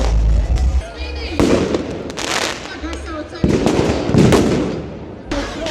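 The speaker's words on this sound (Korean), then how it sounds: "폭죽이 어, 계속 빵빵빵 터지는데" Fireworks burst repeatedly nearby at a New Year fireworks festival in Tbilisi, Georgia, loud cracks and crackling pops in quick succession, with a crowd and talking audible underneath.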